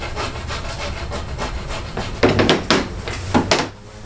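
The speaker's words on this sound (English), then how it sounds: "I'm going to take the rasp, the straight rasp portion." A straight rasp rounds the corner of a red oak longbow handle, giving a close, steady scraping hiss that breaks into several louder, rhythmic rasping strokes near the end.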